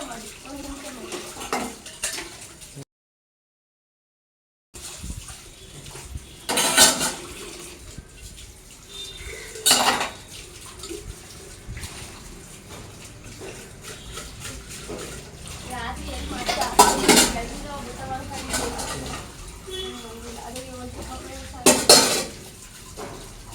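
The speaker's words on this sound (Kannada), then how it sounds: "ನಾನು ಪಾತ್ರೆ ಬೆಳಗೋದು ಸ್ವಲ್ಪ ಒಂದು ಕ್ಲಿಪ್ಪಿಂಗ್ ಅವ್ರ ಹತ್ರನೇ ವಿಡಿಯೋ ಮಾಡಿಸ್ಕೊಂಡೆ" Pots and dishes are scrubbed and rinsed, with clattering metal, scraping and running water in bursts, and occasional voices underneath.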